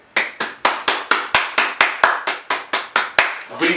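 Audience applause in the form of steady, evenly spaced claps, about a dozen loud sharp strikes in a regular rhythm, close and with no voices.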